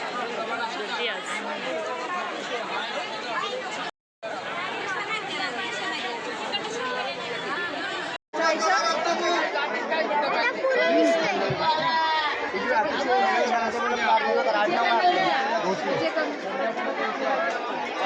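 A dense crowd of pilgrims chatters at Jejuri temple, with many overlapping voices forming a continuous loud murmur, broken by two brief cuts in the sound.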